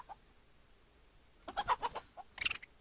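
A few soft clucks from chickens in quick bursts, then a louder flurry of clucking and squawks near the end, against a quiet background, in the video game Pixel Piracy.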